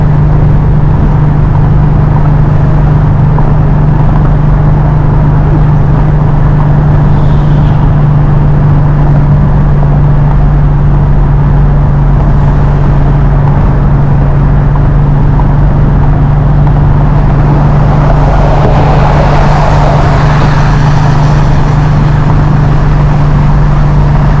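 A car engine drones steadily and loudly at about 75 mph on the interstate, turning high RPM, with a constant low hum inside the cabin and no voices.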